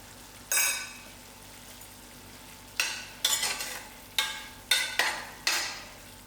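Mince with peas and methi frying in a pan, stirred in repeated scraping strokes: a soft sizzle underneath with about six sharp stirring bursts, one early and a rapid cluster in the second half, and no voices.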